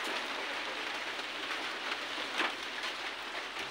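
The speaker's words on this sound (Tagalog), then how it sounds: "ulan na, ulan." Rain falls on a small farm in a continuous, even hiss with faint drop taps, steady and fairly close, with no voices heard.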